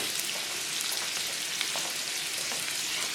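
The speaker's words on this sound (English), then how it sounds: "you see it sizzling and you hear it popping" Hamburger patty frying in a home kitchen pan, a steady dense sizzle with scattered sharp pops and crackles throughout, close and continuous with no talking.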